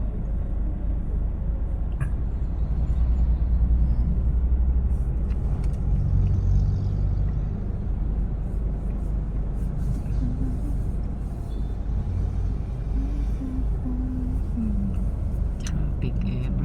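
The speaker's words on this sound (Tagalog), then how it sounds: "Traffic everywhere." Steady road traffic rumble along a highway, a continuous close drone of car and bus engines heard from inside a vehicle, with low engine hum and occasional louder passing swells throughout.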